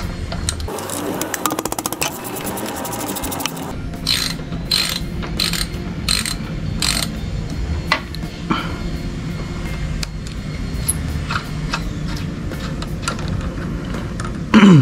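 A hand ratchet loosens a 12 mm bolt on the brake caliper of a Yamaha MT-03 motorcycle, with rapid close clicking at first, then slower spaced bursts of pawl clicks as the bolt turns.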